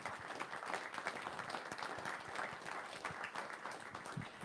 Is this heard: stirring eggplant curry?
no